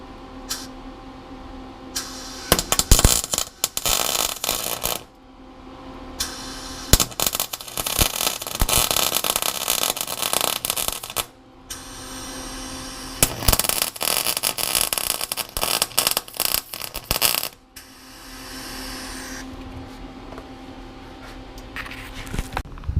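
A propane torch heating new sway bar bushings on a Corvette C5, a loud roaring hiss that comes in long bursts broken by short silences, with crackling pops throughout.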